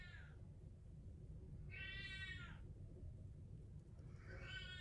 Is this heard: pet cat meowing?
yes